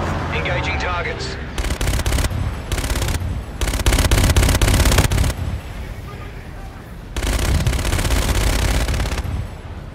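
Loud automatic gunfire rattles in a video game firefight. Several sustained bursts of rapid shots are broken by short pauses, and a voice talks faintly at the start.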